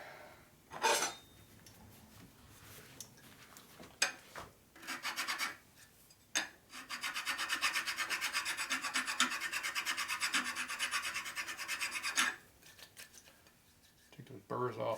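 Hand filing rasps burrs off a metal part from a 1961 Harley-Davidson Sportster XLCH transmission, first in short scattered strokes, then a long steady run of even back-and-forth scraping for several seconds before stopping, with a brief voice at the start.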